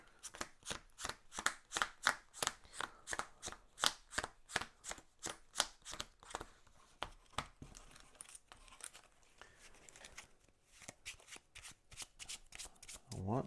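A deck of Mage Knight board game cards is shuffled on a table, a steady run of close riffling card slaps that thins out toward the end, with some quiet talk at moments.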